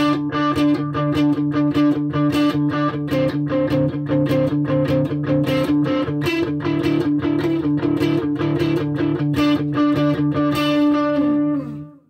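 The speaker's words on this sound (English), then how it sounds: "the sort of standard echo option" Distorted electric guitar chords played through an echo pedal, repeats trailing each strum, loud and steady before the final ring-out.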